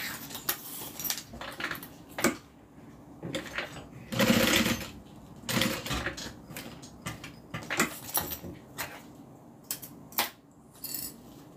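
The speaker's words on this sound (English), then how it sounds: "now I'm going to do a top stitch" Sewing machine top stitching a bag, its mechanical whirring coming in short irregular runs with clicks and clattering handling noises between, close by and moderately loud, with no talk over it.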